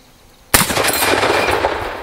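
An M1 Garand rifle fires at a range, one sharp loud report after a quiet moment, followed by a rolling echo that fades slowly.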